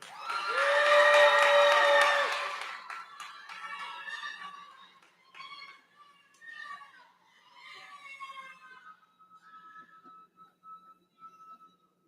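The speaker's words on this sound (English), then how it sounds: "We welcome exuberant applause" A graduation audience bursts into loud cheering and whoops with applause, peaking at the start then fading into scattered shouts and claps.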